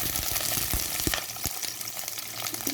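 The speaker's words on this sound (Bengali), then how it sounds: "হালকা একটু ভাজবো।" Five small cut onions frying in a pan, a close, busy sizzle and crackle with a few sharp stirring knocks near the start, no speech.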